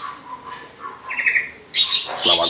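A myna bird calls up close, first with soft, voice-like tonal phrases, then with two loud, harsh squawks near the end.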